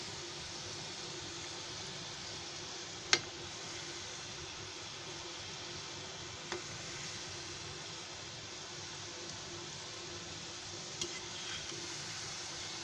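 Pieces of bread frying slowly in oil over a low gas flame, making a faint, steady soft sizzle with a sharp utensil tap near the start and a few quieter clicks later, no talk.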